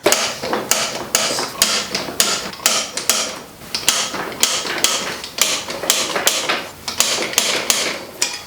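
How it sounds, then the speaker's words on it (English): Wheel bolts on a motorcycle rear wheel with a new tire and chain are tightened in a star pattern with a torque wrench, giving loud rapid ratcheting clicks in repeated bursts with brief pauses between bolts. "So these all get torqued to 24 foot-pounds, of course in a star pattern."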